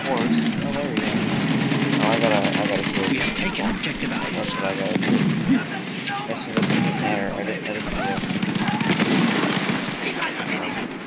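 Mortar fire and battlefield gunfire in the video game Battlefield 1, with repeated booms and bursts of shots over continuous combat noise, while someone talks over it.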